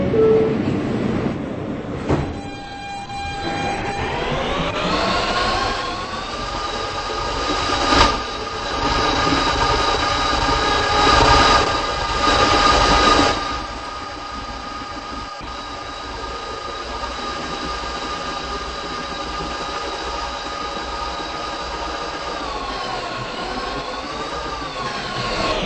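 An R160B subway car on the New York City W line hums and rumbles steadily up close, its electric motor whine gliding in pitch as the train accelerates and later slows, with brief wheel screech.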